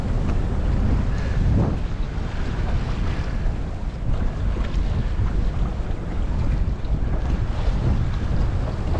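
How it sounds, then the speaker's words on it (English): A sailboat heeling under sail with the engine off, steady wind buffeting the microphone over the constant rush and slosh of water along the hull, with no voices. "The sails are having an airing for a change rather than the engine."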